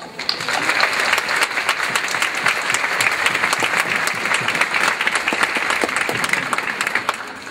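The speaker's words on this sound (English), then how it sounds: "Please rise for a round of applause." Dense, sustained applause from a community college commencement audience, a steady round of clapping lasting several seconds without speech.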